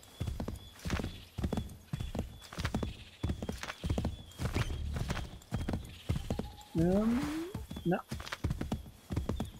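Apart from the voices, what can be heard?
horse galloping downhill in Assassin's Creed III (video game)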